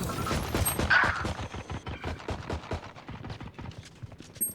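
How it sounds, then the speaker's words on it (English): Killjoy's swarm grenade going off in Valorant, with a dense burst of rapid crackling pops and sharp impacts that start loud and continue as a fast, fading rattle. "Placing swarm grenade."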